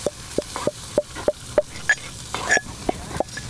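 Food frying and being stirred in a pan for a Tamil-style country chicken curry with small onions: a steady sizzle runs throughout, broken by about ten sharp, evenly spaced scraping strokes of a spatula, with no voices.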